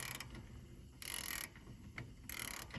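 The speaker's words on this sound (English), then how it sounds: "when I turn this, a ratchet works like one way it's loosening," A hand ratchet wrench works a fastener during brake service on a car lift, giving repeated bursts of fine metallic clicking as it ratchets backwards, fairly close and with no talking.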